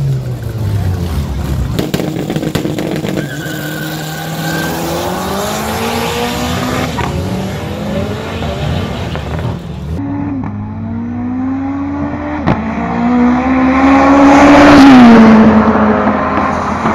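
A turbocharged Audi A3 duels a tuned VW Gol in a street-style race, loud engines revving and shifting with rising and falling pitch, a tire squeal and a close roaring pass near the end.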